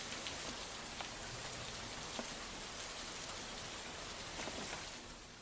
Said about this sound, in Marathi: सांगलीच्या चांदोली परिसरात गेल्या 8 दिवसांपासून मुसळधार पाऊस सुरू आहे